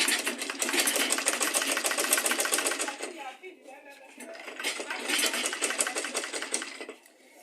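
A sewing machine stitches a fabric tote bag in two long rapid runs separated by a short pause, its close, steady whirring chatter ending as the machine slows.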